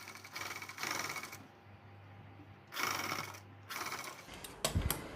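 Sewing machine stitching a blouse, running in short bursts of rapid mechanical whirring separated by brief pauses, close by, ending with a few clicks and knocks.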